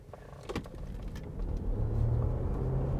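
Denza B5 SUV pulling away hard from a standing start in race mode, a low motor rumble building steadily in loudness over a few seconds after a brief whirring click at the outset.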